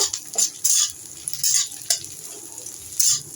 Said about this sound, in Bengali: কাঁচা লঙ্কাগুলো দেওয়ার পর আমি একটু একটু নাড়াচাড়া করব